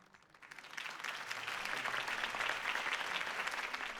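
A crowd in the video game Batman: The Telltale Series applauds after Harvey Dent's campaign speech, the clapping swelling from quiet to a dense, sustained roar of many hands that holds steady to the end.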